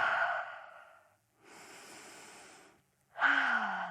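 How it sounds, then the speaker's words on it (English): Three slow, audible exhalations through the mouth during a grounding yoga session, each a soft breathy rush a second or more long with short quiet gaps, close and clear with no talking. "you may feel drawn to take 2 more breaths out of your mouth"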